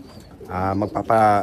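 Close pigeon cooing, a couple of low throaty warbling coos in quick succession, with no talking.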